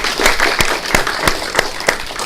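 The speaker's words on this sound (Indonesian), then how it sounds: "mbok paringi aplaus langkung rumiyin" A studio audience applauds at the host's request during a Central Java talk show, a loud close burst of clapping with several sharp, evenly spaced claps cutting through.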